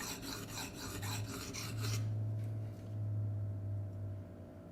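Steel blade drawn across a Venev sharpening stone in repeated rasping strokes, close and steady, with a quick rhythmic burst of short scrapes early on followed by longer, smoother passes.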